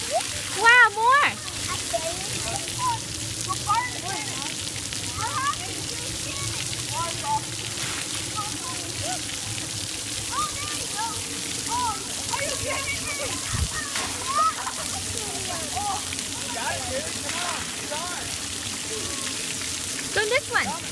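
Water sprays and splashes continuously at an outdoor children's splash pad, a steady hissing wash with children's voices and shouts mixed in throughout.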